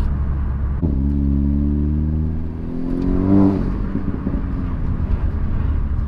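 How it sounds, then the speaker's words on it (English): A Nissan/Renault engine fitted with a GFB DV+ diverter valve revs loudly and close, its tone climbing. A brief whoosh follows as the valve dumps boost to atmosphere, then the engine settles to a rumbling idle, with no talking. "it still does resonate when it dumps to atmosphere, but it's very, like I say, it's a very quick pss"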